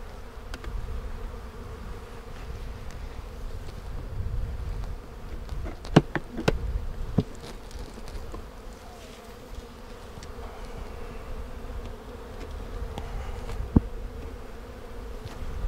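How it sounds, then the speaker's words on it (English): A swarm of honeybees hums inside a hive box, a close, continuous drone of many wings with a few sharp clicks and knocks over it. "That is a better looking box of bees there."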